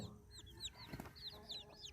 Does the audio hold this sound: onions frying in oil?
no